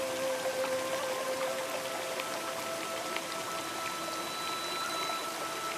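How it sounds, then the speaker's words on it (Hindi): Constant rushing and splashing of falling water, a dense, even hiss with no pauses and no voices. "हवा की सरसराहट और झरने के गिरते पानी की आवाज ही सुनाई दे रही थी।"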